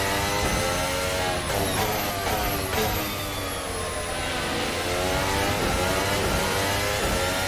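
Racing car engine in a VR racing game revs hard and continuously, a loud high-pitched whine rising and falling through gear changes for the whole stretch.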